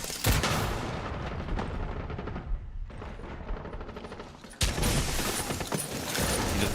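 Grenade blast in a competitive shooter game: a loud rumbling explosion over ongoing battle noise, a dip into quiet, then a second sharp boom followed by sustained loud roar.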